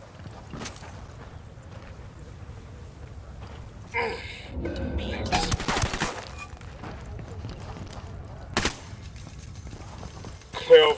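Firefight in the video game Ghost Recon Wildlands, with bursts of gunfire that crack out over a low rumbling backdrop: a cluster of loud shots, a sharp single blast later, and more shots at the end.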